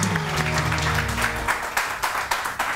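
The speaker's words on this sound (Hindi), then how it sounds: "और बादशाह सलामत हकीम रजा के लिए जोरदार तालियां" A steady round of audience clapping in a TV studio on a Pakistani morning show, full and sustained, with brief louder swells near the end and a faint musical tone dying away early on.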